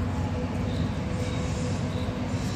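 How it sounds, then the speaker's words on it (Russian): A small children's railway train pulls into a park station in Kyiv, giving a steady close rumble of wheels on track that holds even throughout, with no voices. "И как раз поезд подъезжает на эту станцию с включенными фарами."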